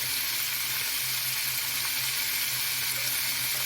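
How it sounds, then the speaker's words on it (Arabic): Rice frying in a pot with a little salt and pepper, being turned over, gives a steady, close sizzle that holds evenly throughout, with no talking. "وهنبدا نقلب الرز تقليبه كمان اهو"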